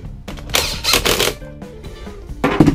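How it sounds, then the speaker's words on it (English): A boat's bilge pump clicks on, several sharp mechanical clicks and clatters nearby, loud, with a faint electrical hum between them and no one speaking. "I can hear something clicking on. Oh, it's a bilge pump."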